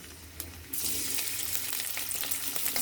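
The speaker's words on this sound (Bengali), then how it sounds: "কড়াইয়ের মাঝে তেল দিয়ে দিয়েছি। এখন পেঁয়াজ কুচিগুলো দিয়ে দিব এর মাঝে" Chopped onions hit hot oil in a kadai and burst into a loud, steady sizzle after a brief quieter moment, frying continuously to the end.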